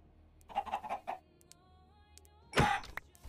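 A Minecraft chicken clucking, a short run of quick clucks followed after a pause by one louder squawk, close and clear against near silence.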